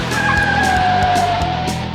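A car in police academy pursuit-driving training skids with a loud, sustained tire squeal, a bright wavering screech over engine rumble, close and continuous.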